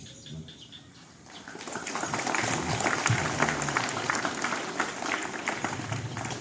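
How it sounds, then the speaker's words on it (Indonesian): Crowd applause breaks out at a Monday school flag ceremony at SMP Negeri Sekuting Terpadu in Indonesia. It swells from quiet into sustained, dense clapping that carries on throughout, with faint bird sounds in the background. "Kita aplaus."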